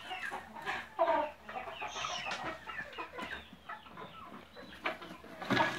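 Chickens clucking on a small farm with goats, a scatter of close, repeated clucks and squawks from several birds in irregular bursts, fairly faint, with no talk.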